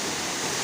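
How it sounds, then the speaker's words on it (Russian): The stream of water at the Nakovalnya waterfall in Mishoko canyon makes a brief, dense, even roar of rushing water, steady and close. "Вот этот поток воды"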